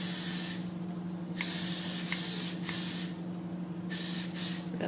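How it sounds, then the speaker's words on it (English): Four short bursts of freeze spray hissing onto wig hair, each a second or less, evenly spaced against a steady low electrical hum, no talking. "I'm going to take some freeze spray and just lightly"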